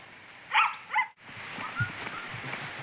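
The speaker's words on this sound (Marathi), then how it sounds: "आता संध्याकाळी थोडा टिपका टिपका पाऊस चालू आहे" Light evening rain pattering softly and steadily at a farm cattle shed, a faint continuous wash with a couple of brief sharper sounds early on.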